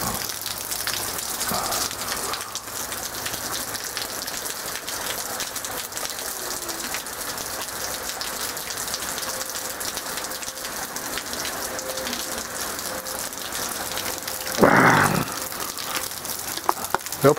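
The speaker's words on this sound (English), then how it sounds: "Rain, rain all day, boys." Steady rain falling all day outdoors, a constant broadband patter with one brief louder rustle near the end.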